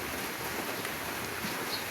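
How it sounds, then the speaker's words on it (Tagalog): Heavy tropical rain pours steadily, a dense unbroken hiss with no pauses, close and fairly loud, without voices. "Wala pang tigil ang ulan"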